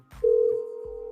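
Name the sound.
telephone ringing on a call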